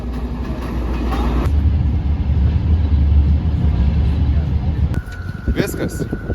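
A passenger train rumbles steadily as hikers get off, then a door or brake clunk and squeal as it settles, with voices talking nearby over the noise.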